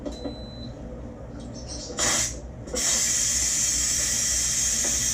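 Steam vents from an Instant Pot pressure cooker's release valve during a beef stroganoff cook: a brief hiss and a short burst come first, then a loud, steady rushing hiss that fills the rest.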